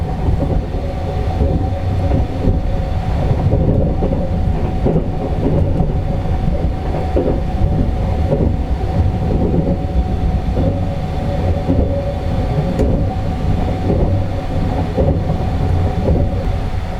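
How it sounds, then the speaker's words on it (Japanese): A Sunrise sleeper express train passes through Nagoya station with a loud, steady rumble of wheels and rail noise, rhythmic clatter running continuously and close by for the whole stretch. "この大きな名古屋駅を通過するのはやはりサンライズ号ただ一つだけなのです"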